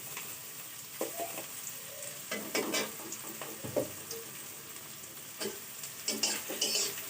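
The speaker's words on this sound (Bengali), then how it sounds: "এতে আমার সবজিটা তাড়াতাড়ি ভাজা হয়ে যাবে" Green beans and vegetables stir-frying in a pan for egg chow mein, with an uneven sizzle and bursts of stirring scrapes that come and go, close up and with no talking.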